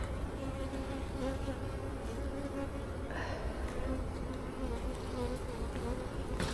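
Dense, steady buzzing of many honeybees around a hive, close by, a continuous hum with no voices.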